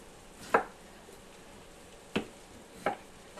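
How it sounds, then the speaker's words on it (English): Knife cutting potatoes into quarters on a board, three sharp separate chops spaced apart against a quiet background. "I'm getting ready to quarter up these potatoes"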